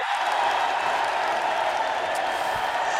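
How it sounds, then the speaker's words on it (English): A studio audience and presenters on a web TV show clap for themselves, a steady, moderately dense round of applause with a constant crowd hum underneath, holding level throughout. "Let's give ourselves a round of applause"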